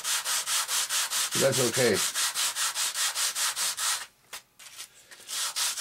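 Sandpaper rubbing on RC model airplane parts for an F-86 build, a steady rhythm of close, loud back-and-forth strokes that pauses briefly near the end, with a short spoken remark partway through.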